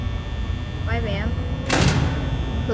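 In Five Nights at Freddy's, a security office door shuts with one loud, sharp slam over a constant electrical hum, shortly after a brief warbling electronic tone.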